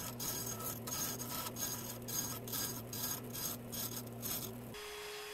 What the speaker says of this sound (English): I got the resaw blade on here. It's not the best for cutting curves